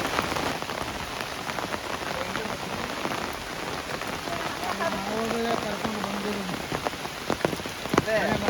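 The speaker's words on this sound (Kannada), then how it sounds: "ಮಳೆ ನಿಲ್ತಾನೆ ಇಲ್ಲ, ಜೋರಾಗ್ತಾ ಇದೆ." Heavy summer rain pours down steadily on surfaces, a dense close patter with scattered louder drips, lasting throughout without pause.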